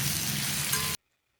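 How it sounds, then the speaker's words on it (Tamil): Onion, garlic, dried red chili and tomato fry together in a pan for chutney, a dense close sizzle that stops abruptly and is followed by silence. "வெங்காயம் பூண்டு காஞ்ச மிளகா தக்காளி எல்லாமே நல்லா வதங்கணும்"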